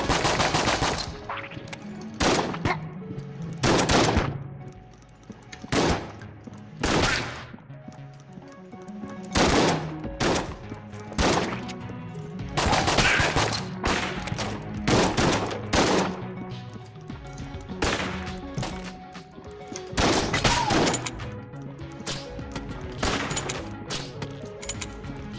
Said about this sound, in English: Some shotgun diplomacy.